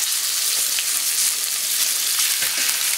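Pork chops searing in olive oil in a hot pan make a loud, close, continuous sizzle with small crackles and pops throughout, and no one speaks.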